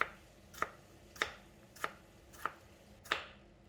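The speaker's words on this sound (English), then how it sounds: "cut the tomato into half and into thin slices" A knife slices a tomato into thin slices on a cutting board. Six crisp, evenly spaced chops land about every 0.6 seconds, quiet and close, with no speech.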